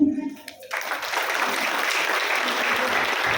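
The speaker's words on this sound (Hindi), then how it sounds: "जोरदार तालियां होनी चाहिए।" Applause fills a Hindi health talk gathering, starting after a short spoken moment and continuing as a steady, dense wash of many hands clapping that holds at even loudness to the end.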